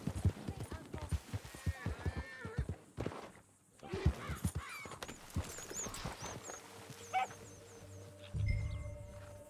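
Horse hooves clop and thud in quick uneven runs in the Western game Red Dead Redemption 2, close and loud early on, with someone talking excitedly over them and a brief whinny-like cry.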